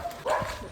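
One brief dog bark rings out at a beach in Alibag, moderately close and over soft background noise.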